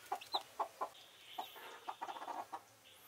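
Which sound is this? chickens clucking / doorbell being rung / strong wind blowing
chickens clucking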